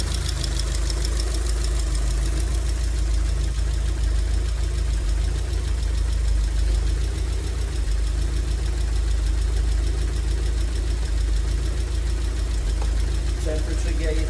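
A smoky car engine with a suspected fault running steadily at idle, a loud continuous low rumble with a faint knock throughout and no change in pace.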